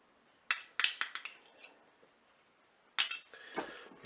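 A spoon clinks and scrapes against the metal bowl of a Cookeo multicooker while mustard is stirred into a light chicken blanquette, with bright taps in two bursts and a quiet pause between them.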